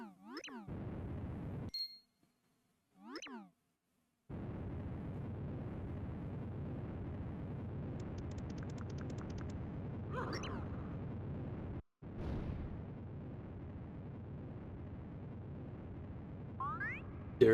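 Bowser's fire attack in Super Paper Mario is a steady, roaring whoosh of flame that runs for several seconds at a time, broken by short cuts and small chimes. It sits under light game sound effects at moderate volume.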